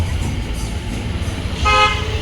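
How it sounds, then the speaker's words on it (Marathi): Road traffic hums along with a steady low rumble, and a car horn sounds near the end in one sustained honk. "ट्रॅफिक."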